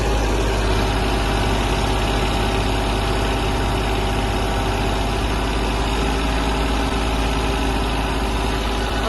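A Kubota GL-23 Japanese diesel mini tractor engine runs continuously nearby, giving a steady, loud mechanical drone with vibration and no clear change in speed.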